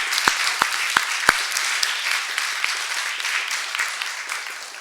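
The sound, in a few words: audience applause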